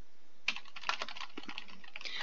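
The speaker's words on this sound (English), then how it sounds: "Spam the keyboard." A computer keyboard is mashed rapidly during a Baldi's Basics game, giving a dense close burst of clattering key strikes that starts abruptly and runs on without pause, with no voice.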